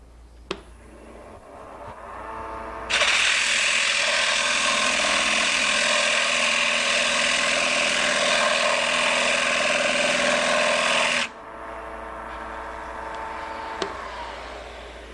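A small maple piece spinning on a lathe while coarse sandpaper is pressed to it, a loud, steady whirring drone over the motor hum for about eight seconds, with quieter running before and after.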